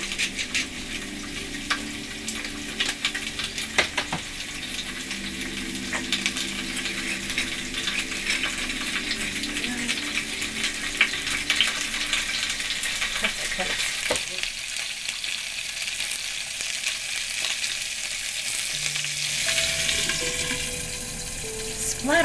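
Chicken pieces searing in a pan for curry chicken and potatoes, a steady loud sizzle and crackle of frying with occasional metallic clinks, continuing without talk throughout.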